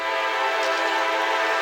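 A CSX AC4400CW locomotive, CSX 506 running as light power, sounds its horn in a loud sustained multi-tone blast, close and unbroken.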